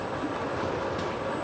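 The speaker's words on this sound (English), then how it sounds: "Can you hear the sound of the blades chopping the straws?" A cutting machine runs with a dense, continuous rattling clatter of blades rapidly chopping paper straws, steady and loud throughout, with no voices.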